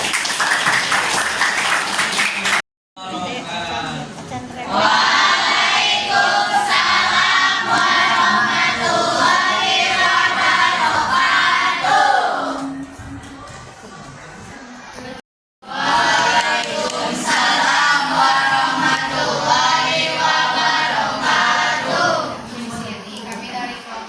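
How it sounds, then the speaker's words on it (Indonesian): A classroom audience claps and cheers in loud, sustained applause, broken by a short pause before the clapping resumes, with voices shouting and calling out over it. "Tepuk tangan untuk kita semua."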